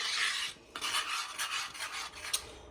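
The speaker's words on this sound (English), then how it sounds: "And mix that all together." Oregano and other dry seasonings being stirred together in a bowl, a steady close scraping and rubbing with light clinks of utensil against the bowl, alone with no talk.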